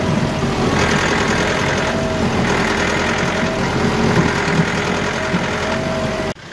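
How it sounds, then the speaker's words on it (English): A steady hydrostatic tractor engine runs continuously at a low, even idle, close and fairly loud, cutting off abruptly at the end. "I like trying to make this hydrostatic tractor sound like it's an old geared one."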